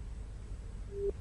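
A single faint telephone line tone sounds briefly over a quiet hiss on a caller's phone line that fails to connect during a live news broadcast.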